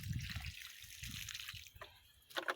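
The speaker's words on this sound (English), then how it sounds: "So I'm just going to water this in." Water splashes and trickles onto soil around a newly transplanted Magnus coneflower, a short continuous pour with a few brighter splashes near the end, fairly quiet and close with no talking.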